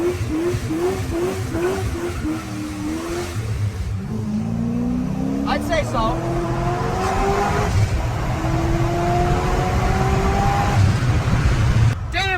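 Supercharged C5 Corvette doing burnouts: the engine revs up in repeated rising sweeps, then holds long climbing pulls with tire squeal and a loud, close exhaust roar. A brief spoken remark comes over the engine.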